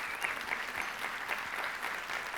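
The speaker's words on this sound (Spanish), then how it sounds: "¿Por qué nos damos unas fuertes palmas?" A church congregation claps loudly together, a brief, dense, even burst of applause from a large crowd in the room.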